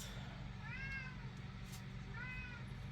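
A cat meows twice, faint and thin, in a room over a steady low background hum, the calls spaced about a second and a half apart.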